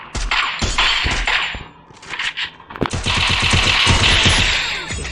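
Gunfire in the Free Fire video game: rapid automatic bursts and single shots crackle loudly and almost continuously, with brief dips between volleys.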